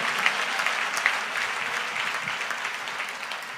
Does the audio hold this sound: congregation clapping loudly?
yes